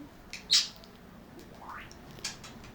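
A pet bird gives a sharp, shrill squawk in the background, followed by a softer rising call and another brief squawk, faint against a quiet indoor room.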